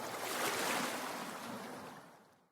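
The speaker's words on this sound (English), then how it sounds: "with the waves breaking gently beneath us" Gentle waves break beneath a seaside balcony on a Thai island at night, a soft, steady wash of surf that swells and then fades away.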